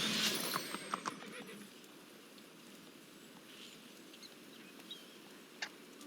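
A horse neighs and whinnies with clip-clopping hooves as a card's saddle ability activates in the MTG Arena digital card game, a loud burst at the start that fades into faint chimes.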